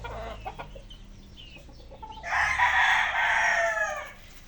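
A Sweater gamefowl rooster crows loudly and close by, its long call following a few short clucks and scattered bird noises.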